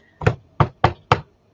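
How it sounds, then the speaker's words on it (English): Four sharp, close knocks land on a tarot card deck in an uneven rhythm, each a crisp rap with a short decay, with no talking in between. "do a knock, 3 knocks"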